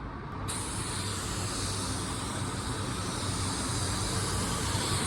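A cheap $16 spray gun lays a drop coat of paint on a customer's car with a steady, loud airy hiss that runs without a break after a short start.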